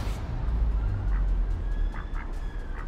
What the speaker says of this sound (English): don't worry if it quacks a bit